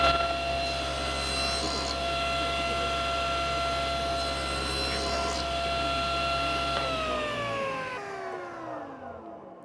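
Table saw running through plywood held against a featherboard, a steady loud whine with tonal hum that stays even, then winds down as the blade spins to a stop near the end.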